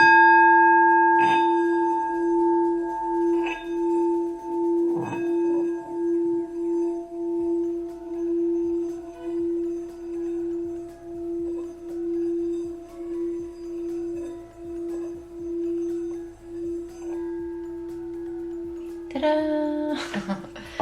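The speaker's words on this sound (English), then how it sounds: "let's give the singing bowl a little bit of a chime" A singing bowl rings with a sustained, steady hum that swells and slowly decays over about twenty seconds, with a few brief strikes early on and a louder clatter near the end.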